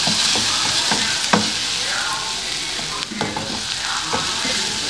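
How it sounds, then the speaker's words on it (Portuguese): Onion frying in butter in a pan makes a loud, continuous sizzle close by, with occasional spoon scrapes and stirring knocks throughout. "Deixa fritar bem a cebola, sai toda a aguinha assim, ó, tá bem sequinha"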